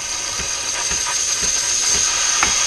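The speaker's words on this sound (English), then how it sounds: "turn it back on for one last little spurt of steam to clean out the" An espresso machine's steam wand hisses in a steady, loud, continuous rush, with faint rhythmic clunks underneath throughout.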